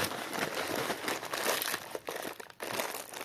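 A parcel package being unwrapped, with crinkly plastic or paper wrapping crumpled and rustled continuously up close, brief pauses between bursts of crinkling.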